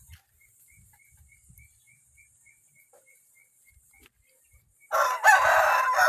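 A rooster kept for chicken breeding on a hillside farm crows loudly and close near the end, a harsh drawn-out call after quiet stretches of faint chirping birds and soft rustling.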